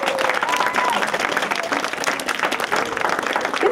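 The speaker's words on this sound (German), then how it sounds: "Herzlichen Applaus." A crowd claps steadily and fairly loudly for a newly elected children's mayor at a civic ceremony, with dense continuous applause and some voices mixed in.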